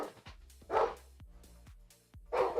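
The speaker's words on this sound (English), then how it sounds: "We're having a dog conversation." A dog barks close by in several separate woofs and shorter yips spread across a few seconds, loud and alone with no talk over it.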